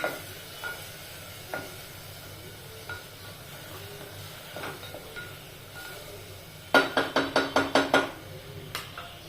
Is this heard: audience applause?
no